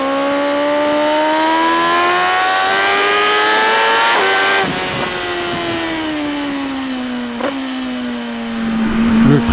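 A BMW M 1000 R motorcycle engine screams at high revs around 8000 rpm while riding, a loud sustained whine with clear pitch shifts as it changes gear, wind noise underneath.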